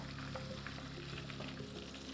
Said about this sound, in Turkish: Yani hemen şöyle kızartayım ben bunları.